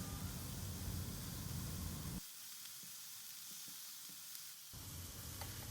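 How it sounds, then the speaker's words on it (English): Minced garlic and ginger sizzle in a wok, hot for the opening two seconds, then briefly quieter before the steady frying hiss returns near the end. "We'll now make some space in the middle of the wok, into which we will add the minced garlic as well as the minced ginger."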